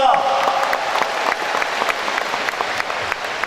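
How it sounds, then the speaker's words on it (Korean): An audience in a university gymnasium at a party primary for provincial governor applauds steadily, producing continuous crowd clapping at an even level throughout, with a faint voice beneath it. "또 지금까지 고생 많이 하신 언론인, 방송인, 당직자 여러분께도 커다란 박수 부탁드립니다."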